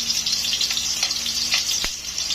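Garlic fries in hot oil in a pan for a Bicol dish, a bright steady sizzle with a brief scrape of a utensil near the end, close and loud.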